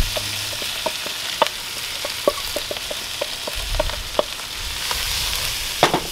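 Meat sizzling and frying in a hot Dutch oven for grilled chili, a steady crackling hiss with scattered sharp pops and stirring clicks, close and alone.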